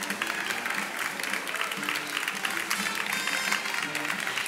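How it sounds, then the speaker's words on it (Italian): Audience applause at a talk on foraging wild plants, a steady dense patter of many hands clapping for several seconds at even loudness. "Un applauso ancora ad Annalisa."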